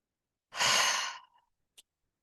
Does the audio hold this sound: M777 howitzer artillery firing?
no